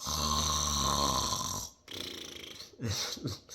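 A person imitates loud snoring: a long rattling inhale, then a couple of shorter snorts and wheezy breaths, close and exaggerated.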